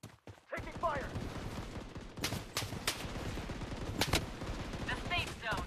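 Gunfire in the battle royale shooter Bloodstrike: scattered sharp shots and short bursts at mid distance, with a few louder close cracks, over continuous game ambience and faint in-game voice callouts.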